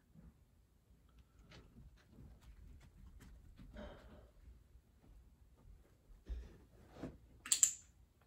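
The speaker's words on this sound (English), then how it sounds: "Now, you heard me click something. That's a marker that he's now exactly where I want." A dog-training clicker clicks once, a short bright snap standing out near the end of an otherwise quiet stretch with faint handling noises and scattered ticks.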